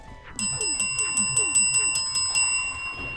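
A livestream donation alert rings a bell about eleven times in quick, even succession, bright metallic strikes over a low background.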